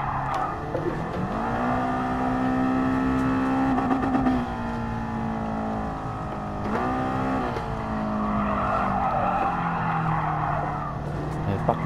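A race car in a video game skids and slides out into a spin, with sustained tire squeal and a steady engine drone rising and falling in pitch, loud and continuous throughout.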